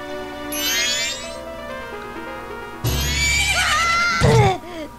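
A horse neighs in The Legend of Zelda: Majora's Mask video game, a loud whinny with descending pitch sweeps over game music, a brief fainter call early on and thuds near the end.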